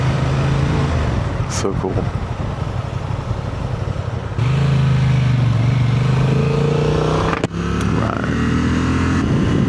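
Honda Gold Wing motorcycle passing on a rural Tennessee road, heard from another moving motorcycle under constant wind and engine roar, a brief swelling engine note rising midway while a rider speaks briefly.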